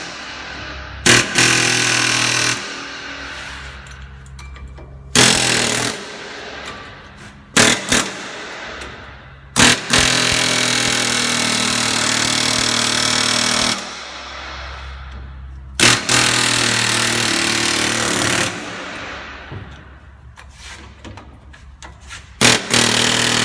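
Long-throw pneumatic air hammer pounding a ball joint on a Chevy Express van, in several loud sustained bursts of a few seconds each with short pauses between, close to the microphone.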